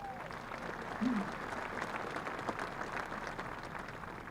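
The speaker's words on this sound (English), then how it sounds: "Give yourself a round of applause." Applause from parents, family and guests at a 2022 graduation ceremony, a steady, fairly quiet wash of clapping that fills the whole stretch, with a voice briefly audible near the start.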